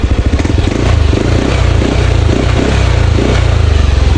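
A Yamaha Aerox 155 scooter, fitted with a new spark plug cap after misfiring and stalling, idles loud and close with a rhythmic pulsing thrum and a slight rattle, and no voices over it.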